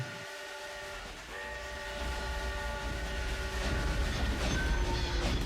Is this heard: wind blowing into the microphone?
no